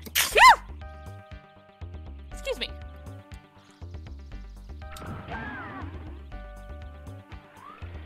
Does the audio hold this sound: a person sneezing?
yes